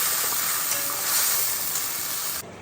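Ginger-garlic-chilli paste and onions sizzling hard in an oil-filled pan as masala is fried for a katla fish curry, a loud, continuous hiss with faint stirring that cuts off abruptly just before the end.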